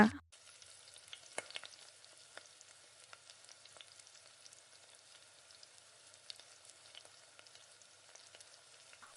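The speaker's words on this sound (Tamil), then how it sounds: "திரும்ப நல்லா இந்த மாதிரி கிளறி விட்டுட்டு இந்த மாதிரி வேகாததை நல்லா அழுத்தி விட்டு திரும்ப அப்படியே வதக்கி விட்ருங்க" Tomatoes sautéing in a pan for thokku give a steady, soft sizzle with scattered crackles and light stirring clicks, close by and without any talking.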